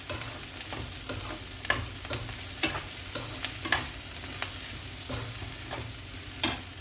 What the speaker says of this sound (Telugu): మనకు అలాగా మీడియం ఫ్లేమ్ మీద వేయించేసుకోవడమే.